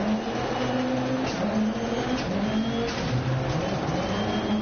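Rally car engine in the Dirt Rally 2.0 racing game, revving hard and steadily with rising and falling gear pitches, loud and continuous with no talk.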